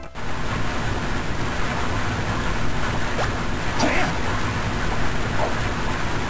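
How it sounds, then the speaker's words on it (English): Steady rushing water of a waterfall in the Castlevania: Aria of Sorrow video game, a dense continuous roar filling the whole stretch at constant loudness, with faint brief chimes on top. "Like we're at the head of a waterfall."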